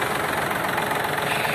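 A Yanmar AF-24 Japanese tractor in good working order idles steadily and quietly, its mid-low engine rumble running evenly throughout without breaks.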